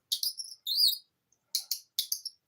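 Bright, high chirping whistles in short bursts with brief pauses between them, clear and close against silence.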